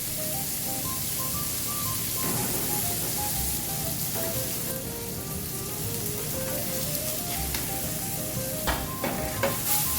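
Red snapper frying with shallots and tomatoes in a hot pan gives a steady, close sizzle and crackle that runs throughout, with a few sharper pops near the end and no one talking.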